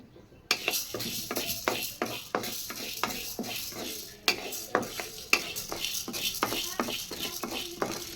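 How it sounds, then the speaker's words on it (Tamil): Chana dal and urad dal are tipped into a pan and stirred, giving a rapid series of sharp spoon-on-pan scrapes and taps over a light sizzle, close and continuous. "இப்போ கடலப்பருப்பு போட்டுக்கிறோம் கொஞ்சமாக உளுந்த பருப்பு போட்டுக்கிறோம்"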